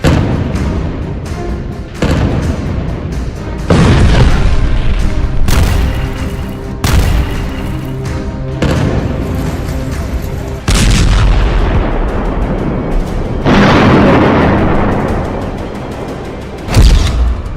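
Bombing in the Gaza Strip sends out repeated heavy, deep booms and rolling blasts, each loud impact followed by a rumbling decay, in a dense sequence with no talk.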